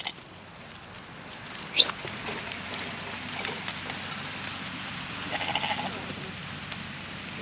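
A sheep bleats a few times nearby over a steady outdoor hiss, with a sharp knock early on and some quiet talking.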